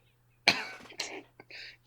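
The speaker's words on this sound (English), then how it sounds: "She coughs up blood." A single harsh cough from a character in a Pokémon Mystery Dungeon hack bursts out, followed by a couple of quieter throaty coughs and breaths, fairly close and alone over a faint steady hum.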